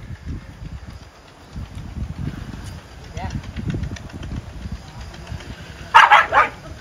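A farm dog on a Pakistani village farm barks a few sharp times near the end, close and loud, after a stretch of muffled movement and background noise.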